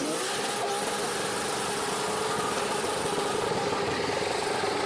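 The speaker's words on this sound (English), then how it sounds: "this is what a 1000 horsepower Supra in real life sounds like." A real 1000-horsepower Toyota Supra engine runs with a steady, dense mechanical roar, loud and close throughout, holding a constant drone without clear revs.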